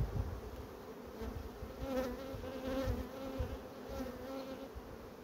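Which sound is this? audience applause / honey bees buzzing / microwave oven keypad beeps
honey bees buzzing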